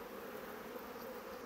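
Honeybees buzz steadily around a closed beehive, a dense continuous hum close by, with no talk.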